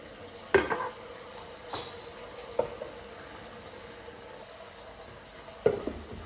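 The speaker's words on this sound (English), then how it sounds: "I'm just going to wash these dishes really quickly" Dishes being washed at home, with a few sharp clinks of crockery and cutlery spaced out over steady low background noise, fairly quiet and with nobody talking.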